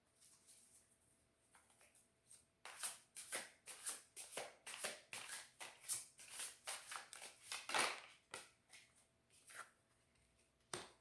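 Tarot cards are shuffled by hand in a long run of crisp, rapid riffles and slaps, quiet at first, then dense and close before tapering off.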